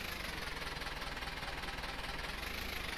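Tractor engine in the video game Farming Simulator 15, a steady low rumbling drone with a slight knocking pulse, running continuously at moderate level without talk.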